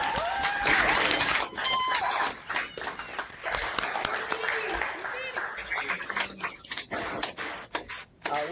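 Scattered applause over a video call honoring Hall of Famer Lem Barney, with uneven clapping from several participants mixed with voices, a dog bark and chatter, the compressed call sound fluctuating in loudness.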